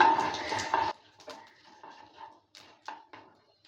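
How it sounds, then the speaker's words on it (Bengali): Panch phoron spices stirred in hot mustard oil begin with a loud crackle and spatter, then settle into soft, scattered scraping and clinks as the pan is stirred. "পাঁচ ফোড়নটা দেওয়ার পর নেড়ে চেড়ে নিচ্ছি"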